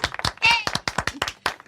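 Hands clap in a short, uneven burst from a small studio audience, the claps sharp and close, with a brief voice sound in the middle.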